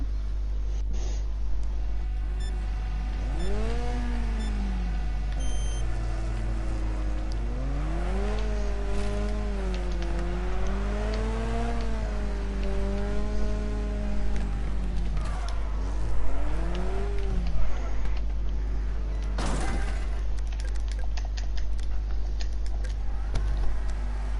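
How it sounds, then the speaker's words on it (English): A pack of V8 Hotstox race cars in an online racing video game rev their engines before the start, pitch rising and falling in repeated sweeps over a steady low hum, loud and continuous with no talk. "Oh, they're all revving up, they're getting ready to go."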